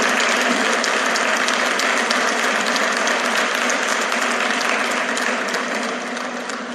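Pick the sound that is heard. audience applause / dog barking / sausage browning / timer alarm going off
audience applause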